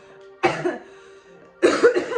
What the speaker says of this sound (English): now I've got like a cough because I had a throat infection last week.